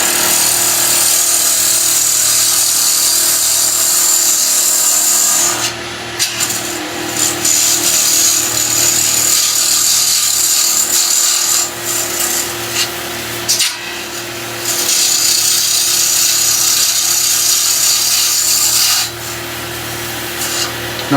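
A wood lathe turning a pen blank roars continuously up close, its hum overlaid with harsh scraping and rubbing of the cutting tool, the pressure easing and resuming several times.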